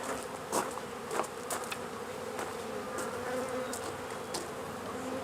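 Honey bees buzz steadily around an open beehive, a dense close swarm hum with individual bees darting past the listener in brief louder passes.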